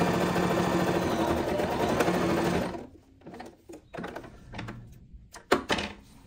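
A sewing machine topstitches fabric under a glide presser foot, running in a steady loud drone for nearly three seconds, then breaking into short intermittent bursts of stitching with brief pauses.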